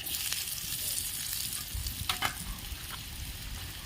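Boiled gooseberries (amla) for pickle sautéed in an oiled pan give a steady close sizzle with a few sharper scraping stirs of a spoon against the pan.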